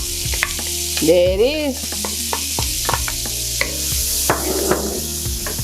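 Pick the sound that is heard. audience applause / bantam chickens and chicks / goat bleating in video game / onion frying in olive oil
onion frying in olive oil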